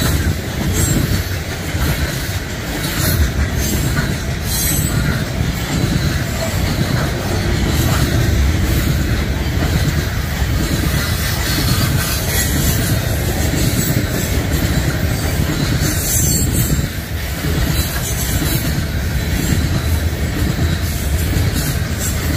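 A long freight train rolls steadily past close by, its wheels clattering over rail joints beneath a constant loud rumble and hiss, continuing without a break throughout.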